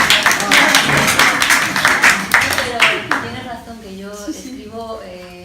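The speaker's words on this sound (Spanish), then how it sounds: "Un aplauso." Audience applause at a book presentation: dense clapping fills the first few seconds, then thins and fades as a voice speaks over the tail.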